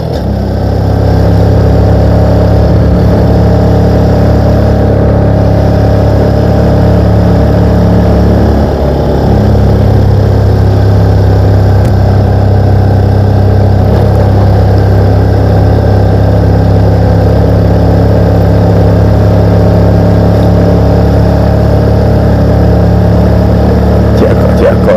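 A Yamaha PG-1 motorcycle engine drones loud and steady while climbing the mountain road up Gunung Jerai, with the revs rising and easing slightly over a sustained run, no talking.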